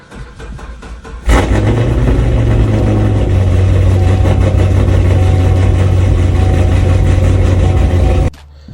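A car engine with a failing starter turns over slowly, then catches and runs at a steady, loud idle for about seven seconds before cutting off abruptly. No voices are present.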